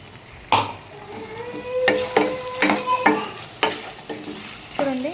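Green chicken curry is stirred and fried in a pan, with a steady sizzle under repeated scraping strokes of a spoon, heard close and alone.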